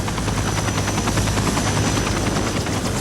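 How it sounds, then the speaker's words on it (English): A rescue helicopter roars close and steady, its rotor thumping in a continuous rhythmic throb with no voices. "We loaded him onto the helicopter"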